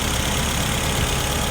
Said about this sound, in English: It's a G62B engine.